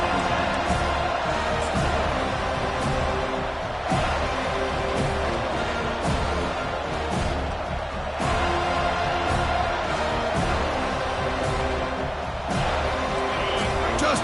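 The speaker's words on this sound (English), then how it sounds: "this home crowd is fired up and ready to make a difference today" Home football crowd in a stadium during a UF vs. FSU college game, a steady dense roar of the crowd with swells of cheering, running throughout under a commentator's voice.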